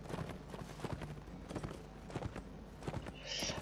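Rhythmic clip-clop of horse hooves from The Last Days of the Third Age video game, a steady trotting gait heard up close and fairly quiet.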